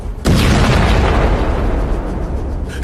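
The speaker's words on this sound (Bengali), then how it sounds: "সঙ্গে সঙ্গে ভীষণ বিস্ফোরণের শব্দ" A sudden loud bomb blast erupts, then a heavy rumbling roar that fills the rest of the moment before trailing off.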